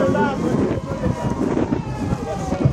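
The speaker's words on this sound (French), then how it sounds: "Il y a le vent." Wind buffets the microphone at an outdoor crowd during a presidential visit in Kounzoulou, Congo. The rumble is loud, gusty and continuous, with voices talking in the background.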